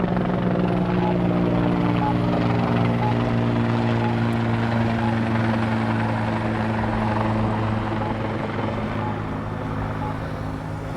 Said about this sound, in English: There goes a helicopter again.